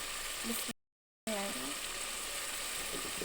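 Green chillies dropped into hot oil while mung dal is cooked, giving a steady close sizzle broken by a short gap, with faint stirring clinks in the pan.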